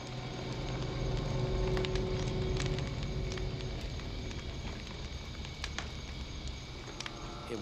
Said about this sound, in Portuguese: Uma fogueira é tudo que o separa de predadores escondidos.